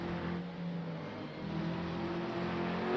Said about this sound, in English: And also the engine sounds awful in the 296.